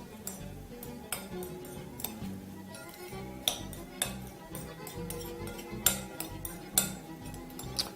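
A utensil works quickly through a salad in a bowl dressed with a little oil and salt, giving a steady run of light clinks and scrapes with sharper taps scattered through, close and fairly quiet.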